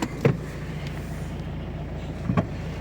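A 2014 Renault Megane 1.5 dCi diesel engine idles quietly and steadily with a low, even rumble, broken by a couple of faint clicks.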